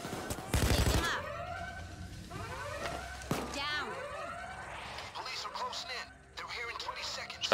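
A sharp gunshot rings out during a bank heist in the video game PayDay 2, followed by wailing sirens and scattered shots under a talking player's voice.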